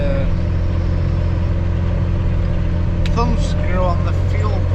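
A Case Magnum tractor's 8.3 litre Cummins diesel engine, rated around 180 horsepower, runs at a steady deep drone close by, with voices talking over it near the end.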